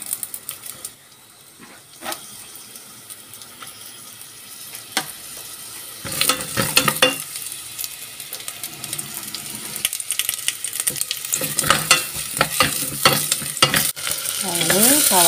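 Onion stir-fried in a little oil for Taiwanese-style chicken curry: quiet sporadic clinks at first, then a louder sizzling hiss with rapid spatula scrapes and clatter, close up and without speech.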